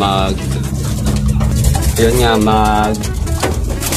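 Racing pigeons coo in soft, repeated throaty calls close by, mixed with background voices and other noise, at a pigeon loading point in Tagkawayan, Quezon.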